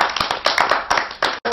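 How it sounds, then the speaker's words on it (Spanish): Applause at a Chilean circus tribute event, with a dense, close burst of clapping that continues steadily before briefly cutting out and resuming. "este aplauso es para ti"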